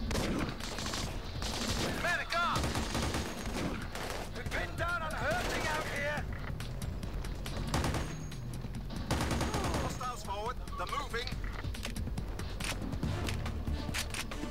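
Sustained gunfire in the Battlefield 2 video game, repeated shots and bursts scattered throughout at varying distances, mixed with radio chatter and voices talking over the firefight.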